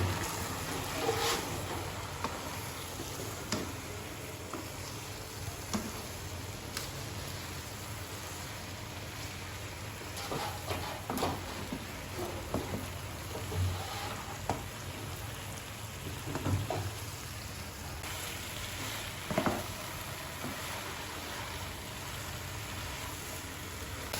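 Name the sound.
eggplant frying and being stirred in masala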